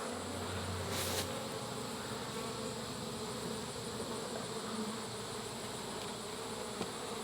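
Honey bees drone in a steady, continuous buzz from an open hive during a honey harvest, close and unbroken throughout with no voices.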